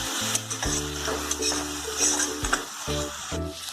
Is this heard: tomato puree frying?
yes